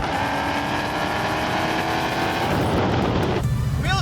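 A manual-swapped Dodge Demon, about 150 pounds lighter than stock, drives with a loud sustained engine roar and road noise, then the tone drops and thins toward the end as the revs change.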